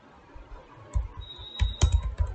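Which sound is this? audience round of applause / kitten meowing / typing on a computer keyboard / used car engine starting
typing on a computer keyboard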